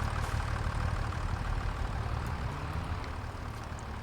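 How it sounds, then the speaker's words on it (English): A John Deere tractor engine idles steadily in a farming video game, a low continuous rumble held at an even level throughout with no voices over it. "Right, it could be this tractor."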